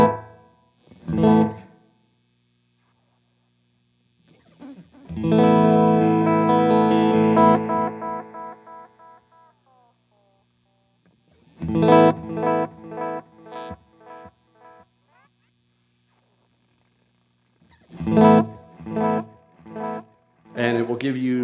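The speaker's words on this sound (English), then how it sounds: "And then your echo controls your delay time." Electric guitar played through a Wampler Faux Tape Echo delay pedal, with loud strummed chords and single notes in separate bursts, each trailing off in repeating echoes with pauses between.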